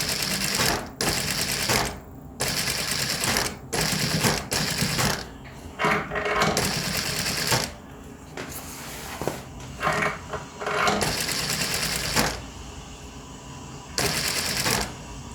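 A sewing machine stitches fabric for a peplum dress, running in long steady bursts of rapid mechanical chatter with brief pauses between seams, close and loud with no talk.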